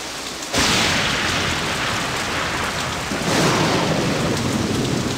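Stormy San Francisco weather in the video game Message in a Haunted Mansion: steady heavy rain hisses throughout while deep rolls of thunder swell in, loud and close, with no voices.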